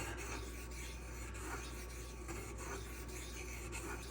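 A Spyderco Sage 5 knife with Rex121 steel is sharpened, a soft, steady rasping rub of blade on abrasive repeating in even strokes, quiet and close with a constant low hum behind it.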